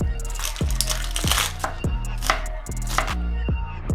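Knife chopping cabbage into strips on a cutting board, a steady run of sharp, close thuds roughly every half second with crisp crunching between strokes.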